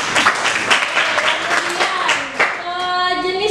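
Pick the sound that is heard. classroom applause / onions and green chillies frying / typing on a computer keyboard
classroom applause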